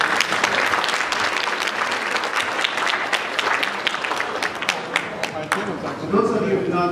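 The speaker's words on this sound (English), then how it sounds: "Please give her a round of applause." A gala audience gives sustained applause, dense clapping with sharp individual claps standing out near and far. A voice comes in briefly at the very end.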